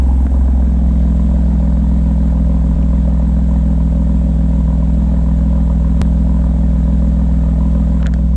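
BMW M4 fitted with an AFE Mach Force-XP aftermarket exhaust, idling loud and steady with a deep, V8-like burble that holds without revving.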